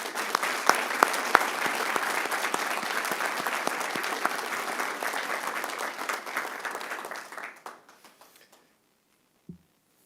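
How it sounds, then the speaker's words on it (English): Steady applause for the officers at a city council meeting, with a few sharp claps near the start, continuing for about seven seconds before tapering off into silence. "A round of applause for the officers."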